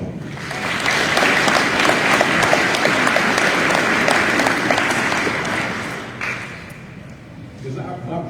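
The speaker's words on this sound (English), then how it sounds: "So give them a round of applause." Loud, sustained applause from a sizable crowd, steady for several seconds before tapering off into scattered claps.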